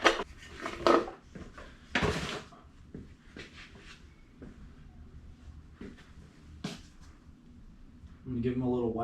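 Metal bolts clatter and scrape in a pan during a Subaru engine rebuild, with a few close knocks and rattles early, then quieter handling, while someone talks over much of it.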